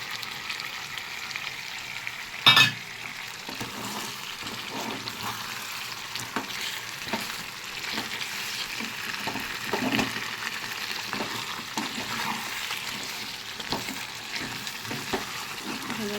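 Chicken chaap is sautéed and stirred in a pan with kewra and rose water, a constant close sizzle broken by repeated spatula scrapes and one sharp metallic clank early on, with no talking.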